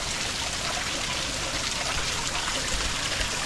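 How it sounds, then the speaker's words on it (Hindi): Clear water pours out from inside a rocky hillside at the Kil Kila waterfall in Madhya Pradesh, a loud, steady hiss of rushing and splashing flow with no voices. "ऊपर दोस्तों पहाड़ी के अंदर से ये पानी निकल रहा था"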